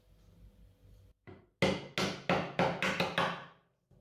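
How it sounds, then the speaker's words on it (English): A chisel tapped with a hammer along a marked line, one faint knock followed by six sharp, evenly spaced strikes, close and crisp in a quiet room. "With a chisel, as mentioned before. So just put it on the line, give it a few taps"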